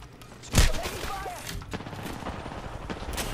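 Gunfire in Apex Legends: a loud close blast opens, followed by a run of quieter shots and impacts scattered through the rest, with game sounds underneath.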